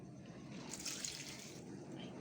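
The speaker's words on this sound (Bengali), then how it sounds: "বাগানে এসে একটুখানি গাছগুলোকে জল দিয়ে দিই একটু একটু করে জল দিয়ে দিই" Garden plants get watered: a brief, faint, soft hiss of water trickling and splashing onto soil and leaves outdoors.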